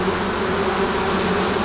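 Honeybees returning to the hive at an apiary make a dense, continuous buzz of many wings close by, a steady hum without pauses or voices.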